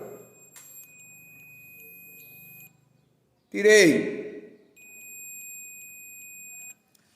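A multimeter's continuous electronic continuity-test beep sounds as the probes touch, stops, and returns after a brief rattle and a short spoken word.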